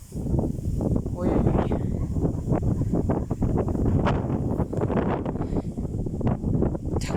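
Very strong wind gusting across an open field in August, a loud continuous roar buffeting the microphone with rustling bursts, while a person exclaims in the background.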